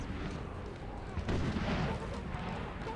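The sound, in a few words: artillery cannon fire in video game Napoleon Total War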